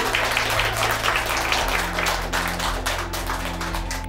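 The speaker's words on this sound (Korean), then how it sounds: "자, 박수 부탁드립니다." A crowd claps at a gathering of Taean thermal power plant workers campaigning for a just energy transition, a brief burst of close, steady applause over a low background hum.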